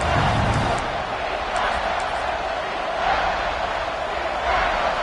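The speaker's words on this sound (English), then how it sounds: "And the crowd coming to life here, trying to help this defense down in the red zone." A football stadium crowd swells into a loud, continuous roar during a game, a broad wash of cheering and shouting with a commentator's voice over it.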